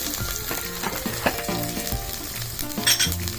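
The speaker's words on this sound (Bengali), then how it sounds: "এবার আমি মাংসগুলো এখানে দিয়ে দিব।" Marinated chicken pieces tipped into a hot pan over fried onions with ginger-garlic paste for a village-style chicken curry, giving a steady close sizzle broken by a few clatters and bumps, with no talking.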